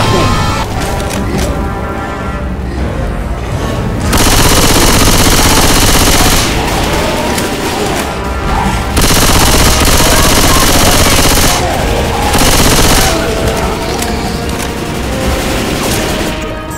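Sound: gunfire in the video game Left 4 Dead 2

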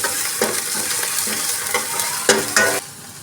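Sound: garlic ginger green chili paste frying with onions

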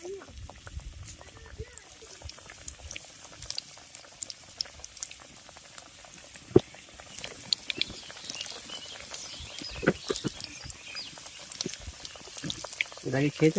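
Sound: cauliflower pakoras frying in hot oil

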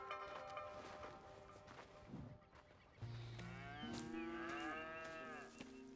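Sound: cows mooing in video game Red Dead Redemption 2

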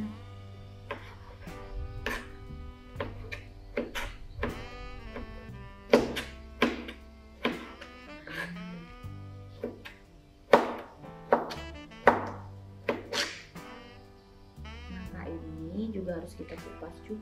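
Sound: knife cutting fruit for iced dessert

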